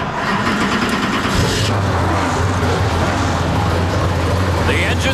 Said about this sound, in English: The engines come to life on a short front straightaway here in Autodrome Chaudière again.